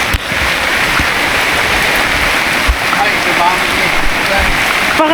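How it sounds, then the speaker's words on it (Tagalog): Steady rain falls and patters on surfaces at a seaside campsite at Malagundi Point in Lobo, Batangas, a loud continuous hiss with scattered drops, no voices over it. "Pa kami natapos ng setup pero tumutulo na yung ulan."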